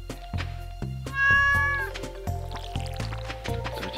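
In the Stardew Valley video game, a cat gives a single clear meow after being watered, set over a bouncy, rhythmic game music loop with water-drip sound effects.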